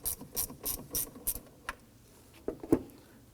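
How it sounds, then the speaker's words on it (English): A ratchet fitted with a 10mm socket loosens the ground terminal nut on a 2003-2014 Volvo XC90, giving a series of quick, close, rhythmic clicks, followed by a few louder scattered clacks. "Using our 10mm socket on our ratchet,"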